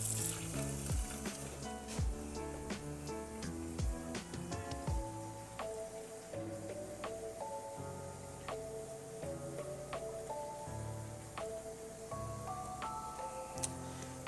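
Water rinsing film in a developing tank gives a steady soft hiss throughout. It sits beneath louder background music.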